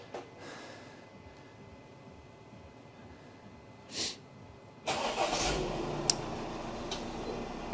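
Car engine started by remote start while the vehicle stays locked: quiet ticking and a brief whir, then the engine cranks and catches, settling into a steady idle rumble close by.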